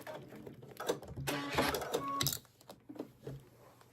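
A sewing machine stitches an appliqué leaf in a short close burst of rapid mechanical stitching, stopping at the end of the stitch line and followed by faint handling clicks.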